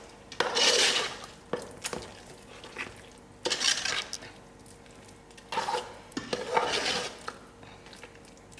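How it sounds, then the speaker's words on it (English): A spoon stirring kitchari in a cooking pot, giving several separate bursts of scraping and soft clattering against the pot, close up and moderately quiet, with no talking. "We will stir this and let it simmer for 2 more minutes."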